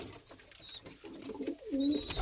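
A pair of tumbler pigeons, a blue mirror-tail male beside his mate, give low rolling coos that build toward a louder, steadier coo at the close, with faint chirps over a quiet background.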